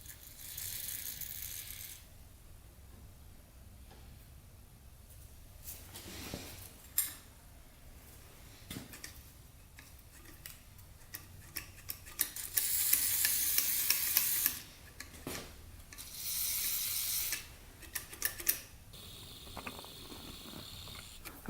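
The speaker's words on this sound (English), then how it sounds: "we're going to spray some WD-40 down there" WD-40 aerosol sprayed at the sticky throttle of a Yamaha Warrior 350 ATV comes as intermittent hissing bursts, including a sustained spray around the middle and another shortly after, mixed with small metallic rattles and handling clicks.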